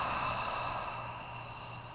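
A slow, steady exhale through the mouth during a cleansing breath at the start of a vinyasa yoga class, a soft airy whoosh that fades gradually over about two seconds with no talking.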